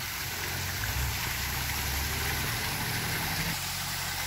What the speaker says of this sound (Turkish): şöyle de çok güzel şelale yapılmış. Çok da güzel sesi var.